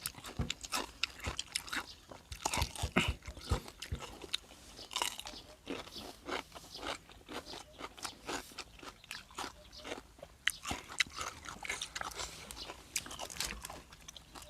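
Crispy-skinned Thai roast suckling pig being bitten and chewed up close, a long run of loud, irregular crackling crunches with short pauses between bites.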